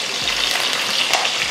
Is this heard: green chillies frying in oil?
yes